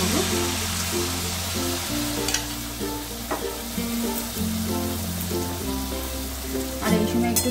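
Mango malpua batter sizzles and fries in a shallow layer of oil, with a steady crackling hiss, occasional stirring scrapes and bright spattering bursts, up close with no talk.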